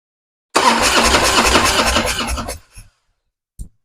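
A 30-year-old Harley-Davidson motorcycle engine, revived after sitting for years, cranks and catches, runs loud and rough for about two seconds, then sputters out, followed by a brief clunk.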